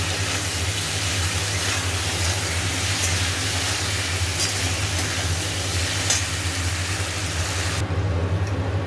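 Tomato, ginger and salt fry in a pan with a steady, dense sizzle and hiss that holds loud and close throughout, with occasional soft stirring scrapes and no talking.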